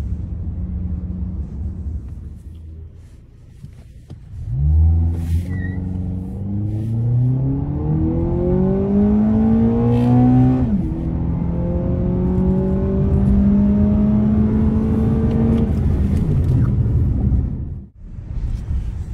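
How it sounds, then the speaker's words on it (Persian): A Honda Accord accelerates hard from 0 to 100 km/h, its engine note climbing steadily in pitch, dropping briefly at two clean gear changes, then fading away near the end. "الان یه شتاب 0 تا 100 براتون میگیره"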